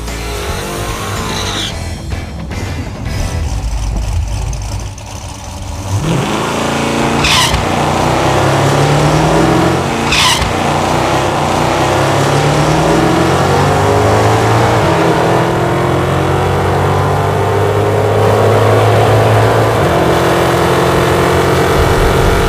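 A Hemi-powered car launches down a drag strip after revving at the line, its engine roaring loud and close as it climbs through gears with rising pitch, then holding a sustained high roar.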